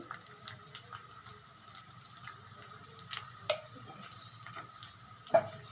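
A spoon stirs vegetable rice in a pot just after ghee is sprinkled over it, giving soft scraping and faint sizzling with a few light clinks, quiet and close.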